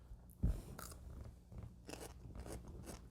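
Someone bites into a crunchy pickle up close, starting with one sharp crunch and then a series of softer, wet chewing crunches in an irregular rhythm, fairly quiet and with no talking.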